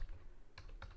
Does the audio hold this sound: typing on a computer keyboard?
yes